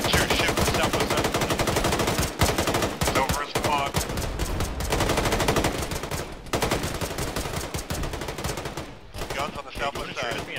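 Sustained rapid gunfire rattles almost without pause in a military video game, with dense bursts and machine-gun strings, a few brief gaps, and people talking under the shooting.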